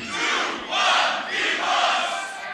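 Beatbox battle crowd at a grand showcase quarterfinal, Australia versus South Korea, shouting a countdown in loud, massed bursts that swell and dip in about three waves, close and filling the room.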